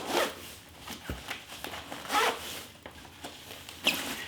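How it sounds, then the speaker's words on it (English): Compression zipper being drawn around a travel packing cube stuffed with t-shirts, giving a few short, close ripping zips spaced through the moment with brief pauses. "So I'll use the compression zipper."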